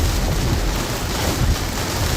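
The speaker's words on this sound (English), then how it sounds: "Oh, I mean, it's an ugly storm." Heavy rain pounds a car in a severe Florida thunderstorm, with a thick, constant hiss and deep low rumble throughout.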